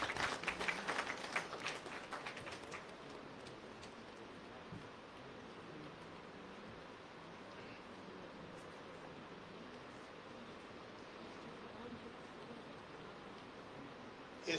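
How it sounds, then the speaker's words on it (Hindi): Applause welcoming a speaker in a university auditorium, a burst of dense clapping at the start that thins into a faint, steady rustling wash for the rest. "आइए तालियों के गड़गड़ाहट से उनका स्वागत करते हैं।"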